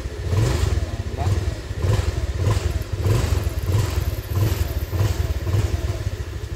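A TVS Dazz 110 motorcycle with a carburetor runs close by in a steady, loud idle, with a rhythmic low pulsing and a mechanical clatter throughout.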